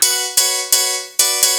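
A layered piano sample for a phonk track, struck in four sharp chords, each opening with a bright click and ringing out with a sustained decay, loud and alone.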